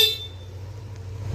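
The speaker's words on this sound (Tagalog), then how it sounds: "Stock na busina lang yan." A single short honk from the stock horn of a Yamaha Aerox V3 scooter at night, heard only at the very start and cut off almost at once, with a low steady hum continuing beneath.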